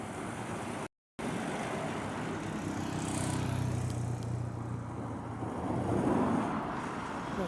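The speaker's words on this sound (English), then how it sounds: "as you're filming, there's always cars coming past." Cars driving past at a heavy-haulage truck show, a steady broadband roadway rumble with wind noise over the microphone that swells slightly near the end, with no talking.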